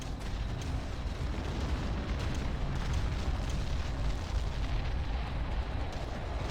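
Heavy artillery bombardment in the strategy video game Ground Control: a loud, sustained barrage of overlapping explosions and deep booms that rumbles without pause, no voices audible.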